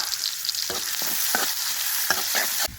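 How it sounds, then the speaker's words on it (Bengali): Garlic and onion fry in hot oil with a steady close sizzle, broken by several short scraping stirs of a spatula against the pan. "একই তেলে দিয়ে দিব রসুন আর পেঁয়াজ এগুলোকে আবার ভালো করে ভাজি করে নিব"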